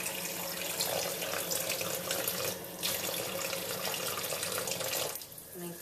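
Water runs steadily from a bathtub faucet for several seconds during a puppy's bath, a continuous splashing hiss that cuts out briefly near the end.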